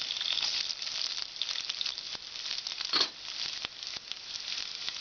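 Finely chopped ginger frying in hot oil with garlic for a Kerala lime pickle, giving a steady, close crackling sizzle throughout with no voices.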